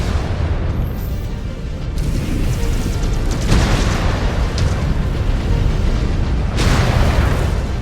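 A mech blowing apart in MechWarrior 5 combat, loud deep booming explosions rolling continuously with crackling bursts and debris, layered sharp blasts standing out near the start and near the end.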